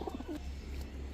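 Racer pigeons kept as breeding pairs give a couple of soft, low coos close by over a quiet background hum, short and unaccompanied by any talk.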